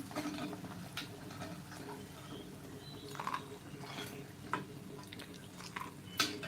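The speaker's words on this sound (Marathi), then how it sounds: "तुम्ही आवाजावरून ओळखू शकता आपल्या भजीला क्रिस्पीनेस किती आलेला आहे" Crispy rajgira flour bhaji fritters crunch faintly in a few scattered, close bites against a quiet kitchen background.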